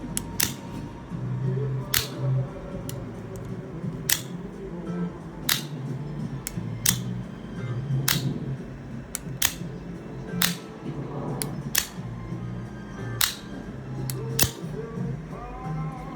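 OTF knife blade firing out and snapping back, a series of sharp, crisp clicks spaced roughly a second or two apart, close and distinct over quiet background.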